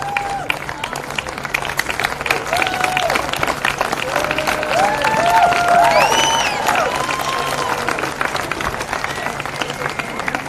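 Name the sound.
audience applause for the runners-up team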